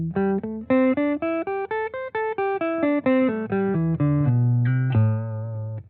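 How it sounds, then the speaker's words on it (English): Guitar playing a minor pentatonic scale, single notes stepping up then back down in an even rhythm and ending on a sustained low note, played alone and close with no talking. "This is our minor pentatonic scale."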